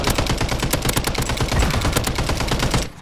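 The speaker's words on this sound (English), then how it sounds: "I just started firing at it." Rapid automatic gunfire in a first-person shooter, a dense, loud, continuous burst of shots that runs nearly three seconds and then cuts off abruptly, with no voices over it.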